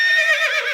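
Horses whinny and neigh in a sustained, loud, close cry lasting under a second, set during a ride through the wild Xenozoic world of an animated series.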